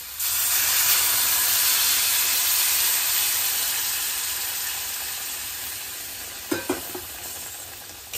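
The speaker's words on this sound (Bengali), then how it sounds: "এরপরে আমি এর মধ্যে জল দিয়ে দেবো, গরম করে রাখা জল দিয়ে দেবো।" Hot water goes into a sizzling fish curry masala of aar and tengra with potatoes in a pan, producing a loud, steady hiss of steam and frying that slowly fades, with a few stirring clinks near the end.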